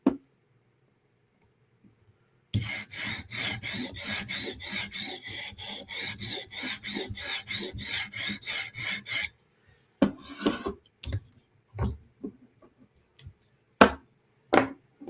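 A knife blade, a Ruike flipper or CRKT M16, drawn across a stone on a TSProf Kadet guided sharpener: about seven seconds of steady, rhythmic back-and-forth rasping strokes, close and clear, followed by scattered clicks and taps.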